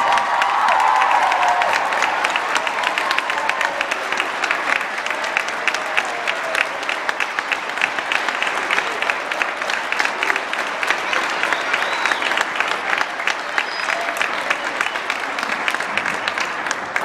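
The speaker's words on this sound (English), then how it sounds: "Please give them a huge round of applause." Sustained, loud applause from a school audience for young performers of a Lion King stage production, dense steady clapping lasting throughout with light cheering mixed in.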